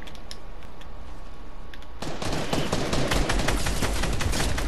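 Rapid bursts of gunfire in a video game break out after a quieter stretch, a dense run of loud, sharp cracks and rattling shots that keeps going close and continuous to the end.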